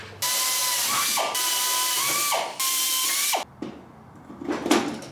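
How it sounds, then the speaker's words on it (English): A power drill whines in three sustained bursts while drilling RV-10 aircraft fuselage side skins, the motor pitch sagging as it bites, followed by short rattling mechanical noise. "put positive pressure, and he's gonna drill into that."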